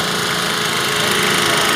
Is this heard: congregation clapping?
no